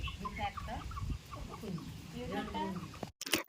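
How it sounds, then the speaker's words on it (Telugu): Village backyard chickens cluck steadily and close by in a low, busy chatter of overlapping calls, ending in a brief rustling burst. "సాత్విక్కి కోళ్ళు అంటే చాలా ఇష్టం అండి వాటికి గింజలు వేయటం వాటిని చూసుకోవడం పట్టుకోవడం ఇవన్నీ చాలా ఇష్టం"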